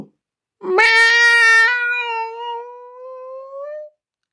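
A human voice imitates a cat, delivering one long, drawn-out meow that starts sharp and slowly trails off, loud and clear against silence.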